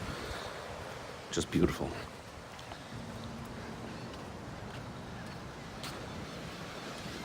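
Ocean surf at the Beaches Turks and Caicos resort's Caribbean Village: a soft, continuous wash of distant waves under light wind, with a brief spoken voice near the start.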